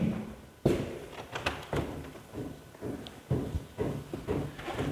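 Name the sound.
hammers banging at building work next door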